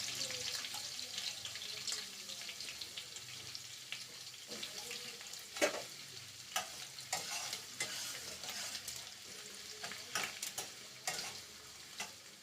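Chopped garlic frying in oil with bay leaf and dried chili, a steady close sizzle with stirring scrapes and small clicks running throughout.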